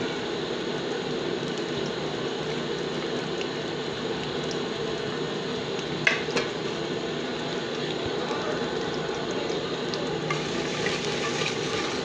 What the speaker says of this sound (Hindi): प्याज गोल्डन होने तक हमें पकाना है। तेल में भूनते रहें